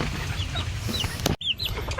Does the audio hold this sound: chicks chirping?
yes